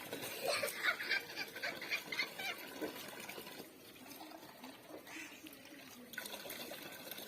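Water pours and splashes in an uneven stream, fairly close, with faint voices in the background.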